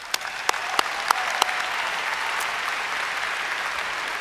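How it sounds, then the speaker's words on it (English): Crowd at a 2025 Wando High School graduation applauds the senior class: a few sharp individual claps lead into a thick, steady wash of applause that carries on evenly without any talking. "our senior, yeah, give that a round of applause."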